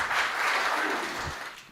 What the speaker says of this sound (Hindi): एक बार आपकी जोरदार तालियों के बीच में